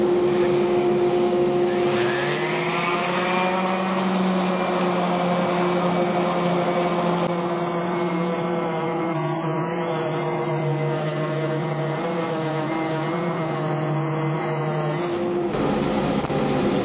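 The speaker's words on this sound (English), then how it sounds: "So I'm going to fire up my dust collector first and the sander." A dust collector and an orbital sander run together while the sander gives a wooden art clock face a light first pass on a rubber mat. The sound is a loud, steady motorized whine and hum that starts about two seconds in and continues nearly to the end.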